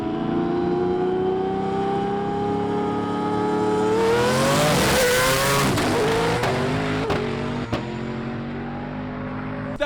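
A car engine roars loudly, revving steadily higher as it accelerates, then drops and wavers with sharp mechanical clatters toward the end.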